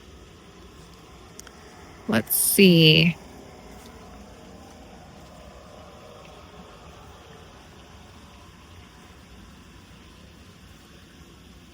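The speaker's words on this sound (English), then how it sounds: "I can hear that waterfall running." A constant soft rush of a waterfall after rain fills the background throughout, with a person briefly speaking over it near the start.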